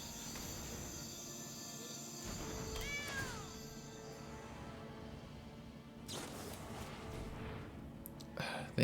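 From the card game MTG Arena, a cat meows once in a short rising-and-falling call midway through, set over steady game background noise with scattered soft clicks and brief rustling bursts.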